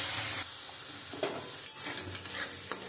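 Ginger, garlic and onion hitting hot oil left from frying fish for a Bengali katla fish kalia, giving a steady close sizzle and hiss with a few soft stirring scrapes.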